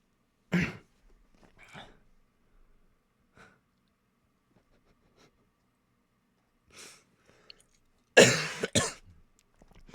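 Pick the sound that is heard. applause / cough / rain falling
cough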